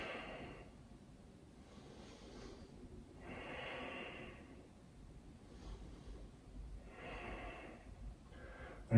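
Soft, slow breathing during a gentle beginner yoga flow, with drawn-out airy inhales and exhales in uneven waves, faint and close with no talking.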